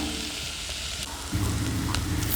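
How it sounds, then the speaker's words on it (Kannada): Food frying in a little oil in a pan covered with a plate, a steady close sizzle and crackle that swells louder and denser partway through. "ಸೊ ಸ್ವಲ್ಪ ಆಯಿಲ್ ಹಾಕಿ ಈ ರೀತಿ ನೀವು ಫ್ರೈ ಮಾಡಿದ್ರೆ ಬೇಗನೆ ಆಗುತ್ತೆ"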